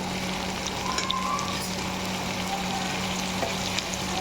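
Blended tomato paste sizzles and crackles in a hot pan with eggplant and drumstick, a steady frying hiss with occasional stirring scrapes and a low background hum, no talking.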